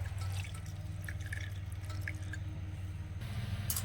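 Water trickles and drips into a pan of melting sugarcane jaggery, a soft continuous liquid patter over a steady low kitchen hum, close and moderately quiet with no talking.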